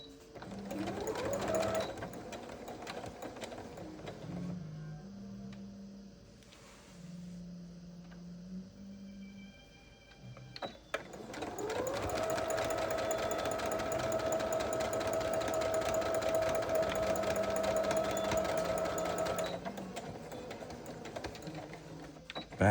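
Sewing machine stitching a vinyl project bag, running in a short burst, pausing, then a long continuous steady whir of rapid needle strokes, close and loud, with a brief back stitch.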